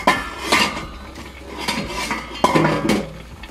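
A metal lid is lifted off a cooking pot of boiling water for chopsuey, giving several close clanks and rattles of pot and lid in quick bursts.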